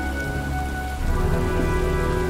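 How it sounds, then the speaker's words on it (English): Heavy rain pours in a video game scene as a storm approaches, a loud continuous hiss of rainfall with low rumbling thunder swelling beneath it partway through. "Well, looks like a storm's coming."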